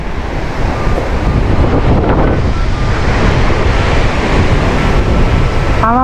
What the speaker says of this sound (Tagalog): Medyo malakas ang hangin ngayon, pero tatry natin.